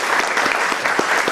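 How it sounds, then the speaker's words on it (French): An audience at a French café literary event applauds author Karim Akouche, a steady dense patter of hand claps from a moderately sized crowd, with no one talking. "je vous demande d'applaudir"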